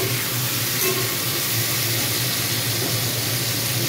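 Salted ridge gourd cooking down in a pan as it is stirred, a steady, loud hiss of steam and sizzle running unbroken throughout at close range.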